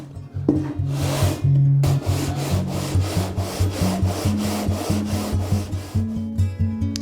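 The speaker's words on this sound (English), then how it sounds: "I'm just going to sand it a little bit smooth" Repeated rasping strokes of wood rubbed over sandpaper on a flat sanding board, shaping an instrument neck, steady back-and-forth rhythm, loud and close, with a slight tonal hum underneath.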